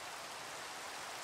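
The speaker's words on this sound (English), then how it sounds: "we're just gonna have to deal with the rain for a bit" Minecraft downpour: a steady, soft hiss of rain falling continuously, even and unbroken, heard alone.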